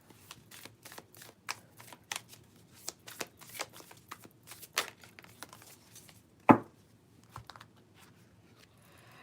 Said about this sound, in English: I'm going to pull one more other card for you.